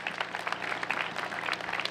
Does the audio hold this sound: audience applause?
yes